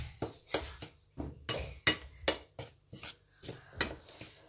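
Pumpkin baghrir batter ingredients mixed in a bowl, giving a run of rhythmic clinks and scrapes of a utensil against the bowl, about a dozen close, crisp strokes with no talking.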